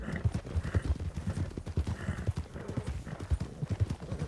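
A horse's hooves clip-clop in a steady walking rhythm on hard ground in a video game, close and clear, with a soft neigh.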